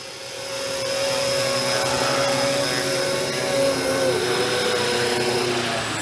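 A 500-class RC UH-60 Black Hawk helicopter with a four-blade rotor flies with a loud, steady whine and buzzing rotor hum. After a short rise at the start it holds at one level, close by, and no one speaks.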